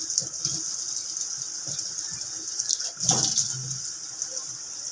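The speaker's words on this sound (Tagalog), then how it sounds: "Hugasan muna natin bago natin hiwain." Food being rinsed under a running kitchen tap before cutting, with a steady hiss of flowing water and a brief splashing surge midway, close and without talk.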